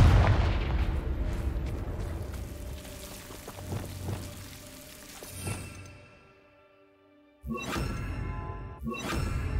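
Blasting-spell explosions from Hogwarts Legacy: a rumbling blast that decays over several seconds with scattered crackling debris, then a brief near-silence before two more sharp bursts in quick succession.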